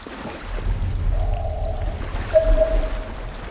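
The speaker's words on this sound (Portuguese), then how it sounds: "O barulho da água alerta muito, cara." Water splashing and sloshing in The Last of Us Left Behind, a video game: a steady wash of moving water with low rumble, and a thin tonal whine rising midway, no voices.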